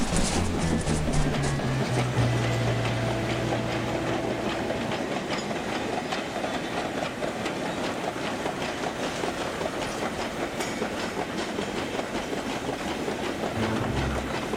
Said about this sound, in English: Hide quickly, the train's coming!